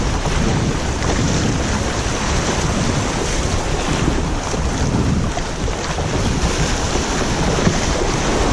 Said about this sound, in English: Some nice waves today.